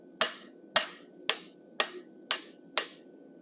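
Six evenly spaced sharp metallic strikes of a hammer driving a curved chisel into hot steel, cutting the mouth beside the beard on a forged bison head, each ringing hit distinct and close with quiet gaps between.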